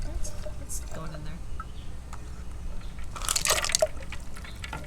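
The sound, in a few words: water pouring into a container for glass bottle cutting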